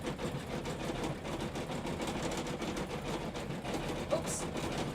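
An embroidery machine test-stitching a Christmas bunting design runs with a steady, dense mechanical whirr at close range, and a brief clink comes near the end.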